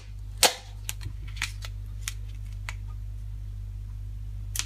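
Duct tape is pulled off the roll with one sharp rip, then pressed down in a few light crackles and taps over a steady low hum, with no talking.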